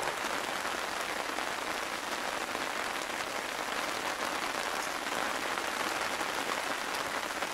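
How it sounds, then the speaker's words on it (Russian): Steady rain patters on a tent canopy over a campfire lunch spot. The dense pattering is even and continuous and stays close throughout, with no voices. "Дождик идет, ребята, мы обедаем под тентом."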